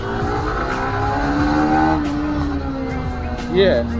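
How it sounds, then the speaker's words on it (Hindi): A Yamaha R15 V4 motorcycle dropping a gear and accelerating, a loud, close, steady engine drone that rises in pitch near the end, with someone speaking briefly over it. "मैं क्या करूँगा, गियर ड्रॉप करूँगा और सीधा उठाऊँगा।"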